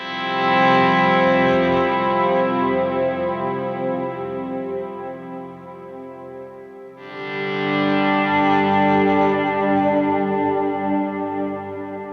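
Electric guitar captured only through dynamic microphones, playing sustained distorted chords with chorus-like and echo effects, loud and continuous, with a brief dip before the playing swells again; no voices.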